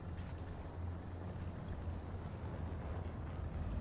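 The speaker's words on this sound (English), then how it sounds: "It's definitely something with an M60 engine sound." An American M60 tank engine in the game War Thunder, a low steady droning rumble with a throaty mechanical hum, continuous and moderately distant, no voices.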